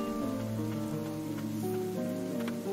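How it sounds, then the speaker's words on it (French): Rain falling in the video game Ender Lilies, a continuous even patter over sustained tonal music, with no voices. "aussi une pluie chelou."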